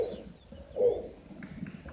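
A snowy owl at Raccoon State Park gives a single low, hoarse croak partway through, fairly close, with faint background noise and no talking around it.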